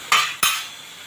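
A metal lid set onto a pot of dal khichdi masala, two quick close clanks in succession followed by a short fading ring.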